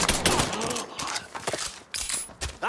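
A rapid Mafia III shootout crackles with close, sharp gunshots and bursts of automatic fire in quick irregular clusters, with brief gaps between volleys.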